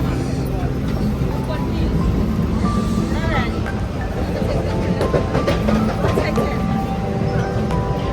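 A moving train rattling and swaying along the track during a family trip to the village of Khed, a dense rumbling clatter with intermittent squeals and clanks, while people chat and eat nearby throughout.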